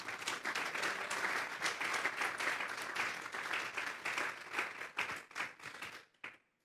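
Church congregation applauding together in a sustained, dense wash of clapping that holds steady for several seconds, then thins into scattered final claps and stops.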